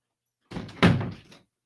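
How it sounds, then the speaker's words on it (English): A house door that a dog had nudged open is pushed shut nearby, giving a soft knock and then a heavier, close thud, with no voices alongside. "the dog opened the door. Let me shut it."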